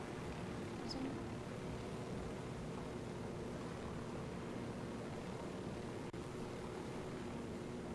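A continuous low helicopter rotor and engine drone in a video game holds steady throughout, broad and rumbling, with no voices.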